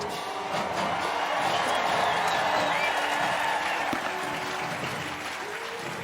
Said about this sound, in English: I hope you can hear some of the crowds who are going crazy for all of these entries